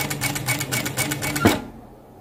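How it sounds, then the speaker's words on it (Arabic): A sewing machine stitches at half pedal press with the stitch setting at 800, a steady rapid mechanical chatter running close and alone for about a second and a half, ending in a brief thump before near-silence. "اهي نبدأ نخيط كده نص دوسة برضو"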